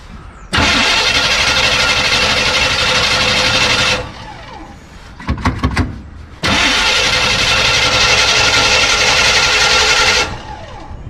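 An old 1953 GMC dually truck engine cranks and roars to life, runs loudly for a few seconds, cuts out with a few sputters, then starts again and runs steadily before shutting off.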